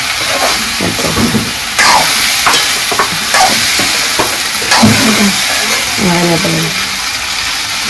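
Curry leaves dropped into frying okra curry, setting off loud sizzling and crackling while a spoon stirs and scrapes the pan in repeated strokes, with a voice talking over the cooking.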